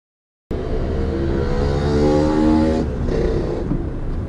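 A Honda BR-V E with a manual transmission drives over an uneven, bumpy road. The engine and road rumble fill the cabin as a steady, loud drone for about four seconds, then the tone shifts slightly toward the end.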